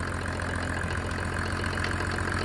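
Mercedes OM603 3.0-litre diesel engine, warmed up, idling steadily with a continuous low rumble and diesel clatter, close and even throughout, with no talking.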